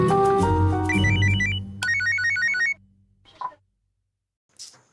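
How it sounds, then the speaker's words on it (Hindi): A phone ringtone plays a bright electronic melody of stepped beeps for a few seconds, then cuts off, leaving faint scattered noises. "विभू को फोन करते हैं।"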